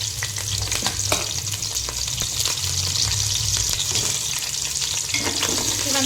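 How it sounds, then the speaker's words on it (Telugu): Onions and green chillies frying in hot oil for chicken biryani, a steady close sizzle with scattered crackles and the scrape of stirring throughout, no voices. "ఇవంతా వేసుకొని మంచిగా ఫ్రై చేసుకోండి"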